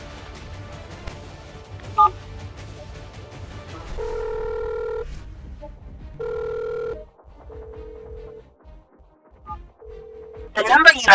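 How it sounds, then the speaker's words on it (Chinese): A telephone on speakerphone sounds a short series of dial beeps and ringing tones, spaced electronic tones with gaps between them, ending in a brief burst of noise. "拨电话，开免提。"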